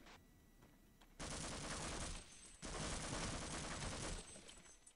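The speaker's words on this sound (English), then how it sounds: "suppressive fire goes crazy." Suppressive gunfire in the Half-Life game, two dense sustained bursts of rapid shots, loud and close, after a few scattered single cracks.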